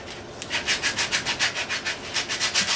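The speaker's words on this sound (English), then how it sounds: "Tyler's having to do hand sanding on the legs" Hand sanding on wooden table legs: brisk, even back-and-forth rasping strokes, close up and regular, about five per second, with no talk.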